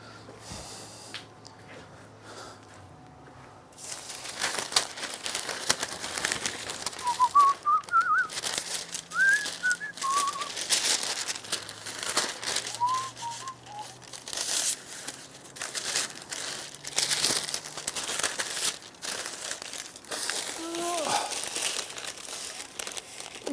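Paper is handled and crinkled up close in a woodworking shop near a book press, with steady rustling and crumpling throughout and a few faint whistles in the background.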